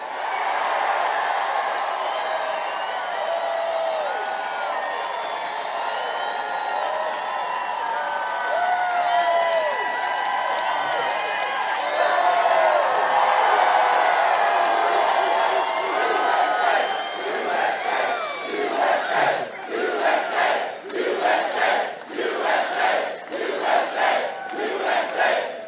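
A large outdoor campaign rally crowd in Winston-Salem roars, cheers and chants continuously, then breaks into rhythmic clapping near the end, loud and dense throughout.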